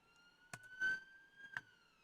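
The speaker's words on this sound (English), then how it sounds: "Sorry about the sirens." An emergency vehicle siren sounds outdoors as a steady, sustained wail with faint harmonics, running through the whole moment over a few brief nearby knocks and bumps.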